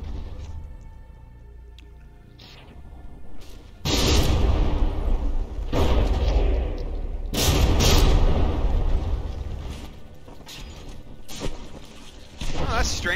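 A naval artillery shell fires and lands short in a From the Depths battleship battle, with several heavy booming blasts and a long rumbling tail, loud and near, after a quieter stretch with talk over it.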